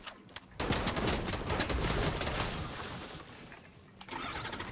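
A tractor engine in a video game starts with a sudden loud burst, then runs as a rough, rattling rumble that drops away briefly near the end.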